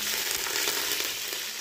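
Garlic, mustard seeds, cumin, dried red chillies and curry leaves sizzle steadily in hot oil, a dense, continuous crackle close up with no pauses and no talk.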